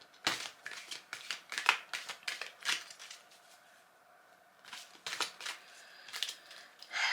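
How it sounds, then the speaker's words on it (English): A pack of paper prompt cards is shuffled by hand in quiet close-up, bursts of crisp riffling and flicking, a pause, then another few shuffles. "We'll give those a bit of a shuffle."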